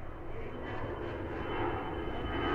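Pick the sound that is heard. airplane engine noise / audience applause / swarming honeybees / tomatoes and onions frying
airplane engine noise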